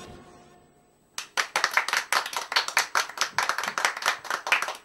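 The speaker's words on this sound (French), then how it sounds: "Merci à toutes les mains qui applaudissent" Audience applause bursts in after a quiet opening second, a dense crowd of hands clapping steadily and fairly loud for the rest of the clip, with no talk over it.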